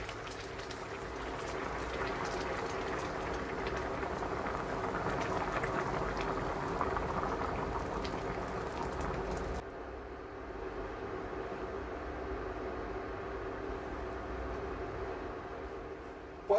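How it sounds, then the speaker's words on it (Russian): Boiling water being poured into a soup pot for a quick five-minute soup, a steady loud bubbling, splashing rush that runs for about ten seconds, then drops to a quieter continuous simmer. "И выливаем кипяток."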